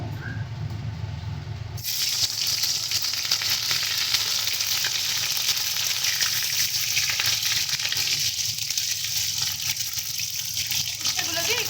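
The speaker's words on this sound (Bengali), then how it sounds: "এবারে আমরা উচ্ছেগুলো দিয়ে ভেজে নিচ্ছি।" Bitter gourd pieces dropped into hot oil in a wok burst into a loud, close, steady sizzle after a quieter opening, continuing as a dense crackling hiss.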